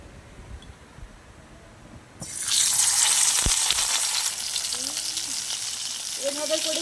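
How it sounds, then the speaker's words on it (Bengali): Salted, turmeric-rubbed fish pieces dropped into hot oil in a wok, bursting into a loud, steady sizzle after a quiet start and then frying on continuously up close, with a faint voice briefly underneath. "এবার তেলের মধ্যে মাছগুলিকে দিয়ে দেব"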